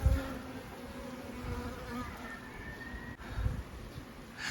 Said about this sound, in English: Look how calm these bees are though.